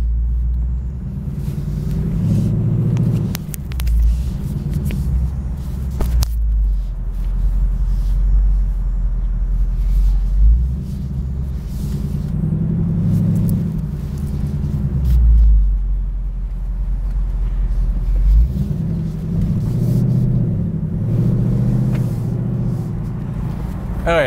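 A 2021 Ford Mustang GT convertible in sport driving and steering mode produces a loud, steady engine rumble with surges of acceleration, running continuously throughout.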